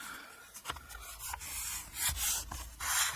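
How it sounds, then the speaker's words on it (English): A paper journal cover is burnished by hand, giving soft, close rubbing strokes in a few uneven bursts, quiet, with no talking. "I'm just going to give that a bit of a burnish"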